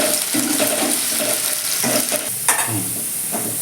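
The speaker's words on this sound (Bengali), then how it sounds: "পেঁয়াজটাকে আমি একটু হালকা বাদামে করে ভেজে নেবো" Thinly sliced onion fries in hot oil in a pan for a boal fish curry with mustard and poppy seed, a loud continuous sizzle broken by repeated scraping stirs.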